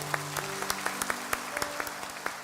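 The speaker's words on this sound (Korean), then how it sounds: "하나님 앞에 영광의 박수를 올려드립니다" Congregation clapping during a Sunday Easter worship service in a church, a steady run of sharp hand claps over a low sustained organ-like tone, moderately loud and without talk.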